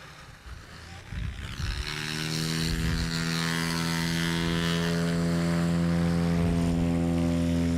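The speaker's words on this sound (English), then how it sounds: "the aircraft that you're seeing in front of you are aircraft that aren't generally modified very heavily" A Cessna 182 propeller plane runs up at an air show competition, its engine drone swelling from a quieter start into a loud, steady harmonic roar that holds close by.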